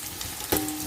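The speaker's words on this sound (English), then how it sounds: "Now we will fry the onions" Onions crackle and sizzle briefly in a hot pan, a short burst of frying with a sharper spit midway.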